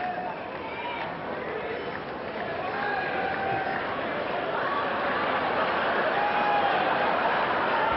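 A tennis match crowd refusing to settle, a continuous roar of chatter and noise that swells and grows louder over several seconds, with a commentator's voice talking over it.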